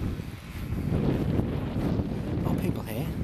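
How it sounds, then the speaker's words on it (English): Wind gusting across an open farm field during a wet vintage aircraft meeting, a continuous rumbling roar buffeting the microphone with muffled voices and activity faintly underneath. "The actual wind has picked up now"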